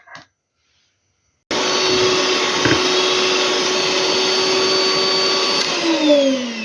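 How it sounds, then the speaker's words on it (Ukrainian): An electric hand mixer starts up after a brief knock and silence, then whirs loudly and steadily while beating batter for an apricot pie, its pitch shifting slightly near the end. "я зараз зіб'ю міксером"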